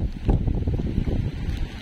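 Strong typhoon wind at the seashore roars and buffets the microphone in a steady, low, gusting rumble, loud and close, with no voices.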